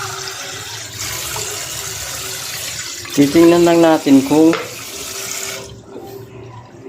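Water poured from a tap into a drinking glass, a brief rising gurgling fill of about a second and a half, preceded by a voice speaking.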